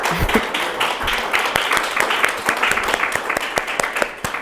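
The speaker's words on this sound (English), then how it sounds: "Let's give them a big round of applause." An event audience applauds artists William Ellis and Kay Hickman of the Pilgrimage Project, a steady crowd clapping with some louder individual claps standing out and a brief voice near the start.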